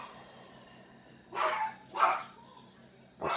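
A dog barks indoors, with three separate barks spaced about a second apart, moderately loud against quiet room background.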